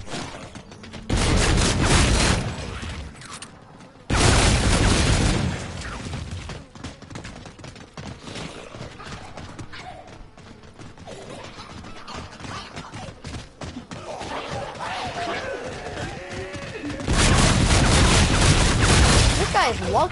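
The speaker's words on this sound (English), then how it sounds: "firework gun." A firework gun fires in a zombies mode of the video game Call of Duty Infinite Warfare, with loud bursts of blasts and booms in separate volleys between quieter stretches of game noise and talk.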